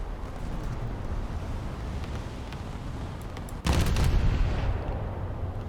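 Naval gun shells firing in the War Thunder video game, a sudden loud burst of gunfire over steady low rumbling background noise, holding loud for about a second before easing back.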